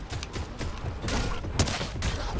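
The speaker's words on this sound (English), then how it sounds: "That's another grenade launcher." Grenade launcher explosions in the video game Fortnite, a dense run of booming blasts and gunfire bursts stacked over a continuous loud battle din, with one sharper, heavier hit near the middle.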